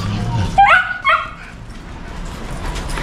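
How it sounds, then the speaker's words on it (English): A small dog gives two quick, high yapping barks close by, then quiet background noise follows. "It's too excited, so barking at everything at the moment."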